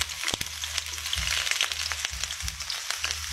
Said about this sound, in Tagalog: simulan na po natin igisa yung bawang at sibuyas